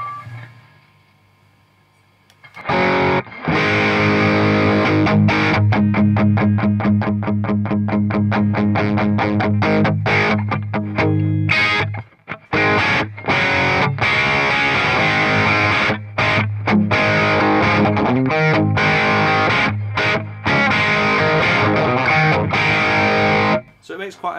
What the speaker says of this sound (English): Style sort of distortion breakup that you sort of expect from an old crank Marshall.